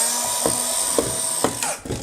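A small battery-operated power tool runs against timber, its steady high whine broken by a series of rhythmic ratcheting clicks roughly every half second, close and fairly loud.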